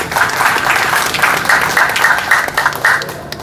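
An audience at an art exhibition opening at an Indonesian national gallery claps in a short burst of lively, fairly loud applause with rhythmic clapping that fades toward the end.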